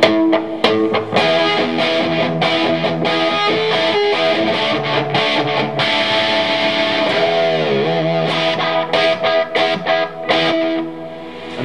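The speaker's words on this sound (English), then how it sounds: "Next I'm going to add in an old Echoplex which has a single repeat." A homemade Frankenstrat-style electric guitar played through an old Echoplex giving a single repeat, loud distorted riffing with quick picked runs, a whammy-bar dip, then choppy stabs trailing off.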